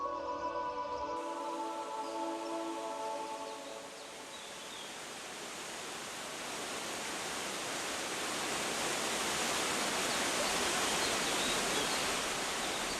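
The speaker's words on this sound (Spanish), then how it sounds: "se llega a la cascada de Triberg, la más alta de Alemania" Triberg waterfall on the Gutach river in the Black Forest, Germany's highest, roars as a steady, dense wash of falling water that swells slightly louder toward the end, after a brief musical opening.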